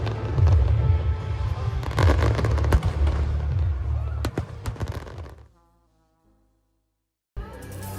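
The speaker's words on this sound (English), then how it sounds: "these fireworks were some of the greatest I have ever seen in my life." Fireworks bursting over a beach on the French Riviera, a dense run of loud booms and crackles with crowd murmur beneath, fading to near silence before one more burst near the end.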